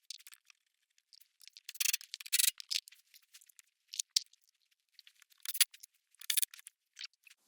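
Screws being driven back in to refit the splash guard under a 2014-2019 Volkswagen Passat with a 1.8T engine: faint, scattered bursts of clicking and scraping from a hand tool, coming in short irregular clusters.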